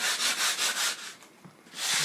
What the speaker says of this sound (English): been doing a rough sanding